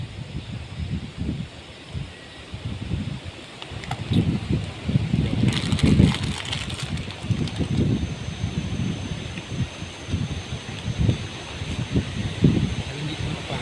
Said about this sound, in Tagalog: Lakas ang hangin guys.